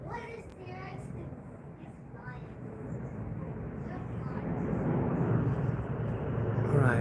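A large Boeing 777 airliner flies overhead, a broad, rumbling roar that builds steadily louder over several seconds, with faint voices in the background.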